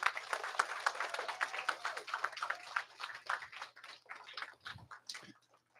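A small group of elementary school pupils claps for a visiting legislator, quiet and uneven with individual claps audible, tapering off toward the end.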